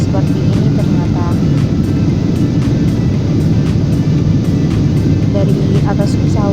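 Steady droning roar of a passenger jet cabin in flight high above the islands of Batam, constant and loud throughout, with a person speaking over the engine hum.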